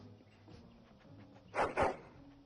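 A hound in the video game Dragon Age gives two short, loud whining yelps close together near the end, rising above a quiet, humming game background.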